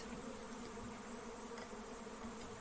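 A dense, steady buzz of many honeybees around open hives during honey harvesting fills the whole stretch, constant and close, with no voices.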